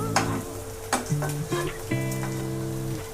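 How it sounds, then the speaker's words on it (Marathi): Potato tikki patties shallow fry in oil until golden brown, making a soft, crackling sizzle with a few sharper pops, while a faint melodic tone hums underneath. "अशा ब्राऊन होईपर्यंत आपण शॅलो फ्राय करून घ्यायच्या"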